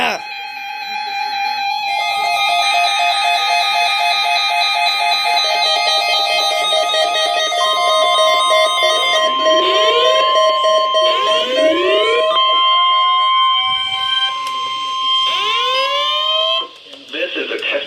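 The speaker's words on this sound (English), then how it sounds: "This is a test of the NOAA Weather Radio Warning Alarm device and the Emergency Alert System." A NOAA Weather Radio Emergency Alert System weekly test plays loud, continuous alarm tones with shrill, warbling, rising electronic sweeps and data bursts, filling the whole stretch with barely a break.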